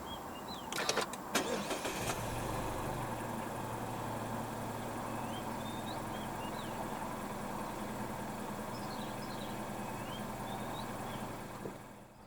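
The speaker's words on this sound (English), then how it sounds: "press the start button to the left of the steering wheel" A 2019 Mazda 3 with the 2.0 SkyActiv-G engine starts with a short cranking burst, then settles into a steady, quiet idle hum that holds until the end.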